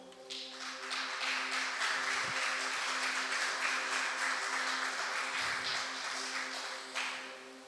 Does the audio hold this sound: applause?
yes